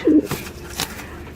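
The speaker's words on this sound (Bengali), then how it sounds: "এক জোড়া লক্ষা কবুতর একেবারে পিওর হোয়াইট" A pair of pure white Lakka pigeons gives a single short, low coo right at the start, close by, and then the rest is quiet.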